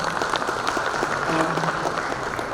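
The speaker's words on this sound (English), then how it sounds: "Let's give him a round of applause." Conference audience applauds in a large hall after a presentation, a dense steady wash of many hands clapping at moderate loudness, with a faint voice murmuring underneath.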